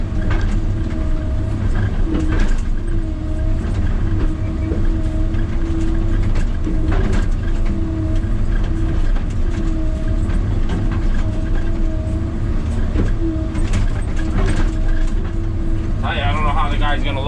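A Kobelco excavator pulls tree stumps out of the ground with a ripper attachment. Its heavy diesel engine drones loudly and steadily, with rising strain and scraping through the whole stretch.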